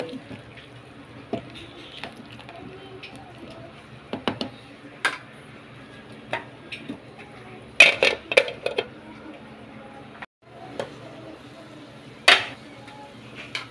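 A spoon stirs a cooking pot of laswa vegetable stew after salt and seasoning go in, sparse metallic clinks and scrapes over a quiet background, with a voice speaking at times.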